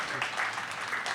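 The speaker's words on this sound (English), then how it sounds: "Please applaud some more." Audience at the Jaipur Literature Festival 2022 applauds after a panel exchange: a steady, dense wash of many hands clapping at moderate volume, sustained and even for about a second.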